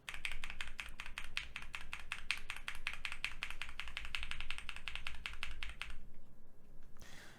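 Fast, steady typing on Durock T1 tactile switches in stock form, crisp, closely spaced clicky keystrokes for about six seconds, then stopping abruptly into near silence.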